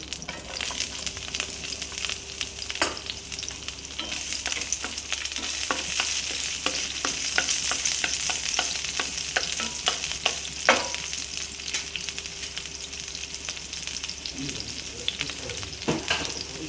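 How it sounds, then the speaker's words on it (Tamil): Garlic sizzles in hot oil in a pan as part of a prawn masala, a continuous crackling hiss with scattered pops and spoon scrapes throughout, heard alone without talk. "எண்ணெய் நல்லா சூடானோன்னே பூண்டு"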